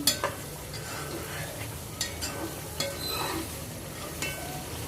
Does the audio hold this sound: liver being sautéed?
yes